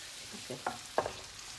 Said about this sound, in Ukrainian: Воно нам трошечки просмажиться.